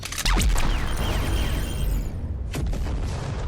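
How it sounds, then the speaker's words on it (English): Fireworks explosions in the Broken Eden video game: a loud booming blast followed by crackling, whistling bursts and a second sharp pop, dense and close. "Some fireworks, folks."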